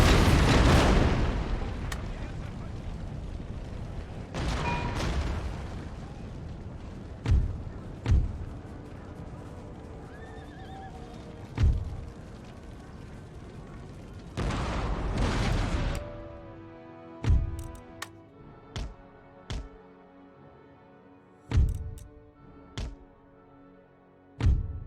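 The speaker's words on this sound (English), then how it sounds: "want to shoot their general with the cannons on the walls" Wall-mounted cannons firing during a siege battle in Empire: Total War, a series of deep booming shots at irregular intervals, some long rumbling blasts early on, then sharper separate thumps against quieter battlefield ambience.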